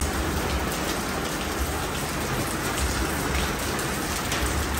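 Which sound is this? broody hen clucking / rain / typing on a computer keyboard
rain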